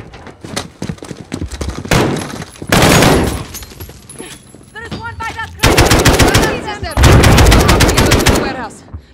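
Gunfire from the video game Call of Duty Modern Warfare during a prison break mission: loud bursts of rapid automatic fire and single shots, dense volleys building to sustained heavy fusillades, with game voices briefly heard.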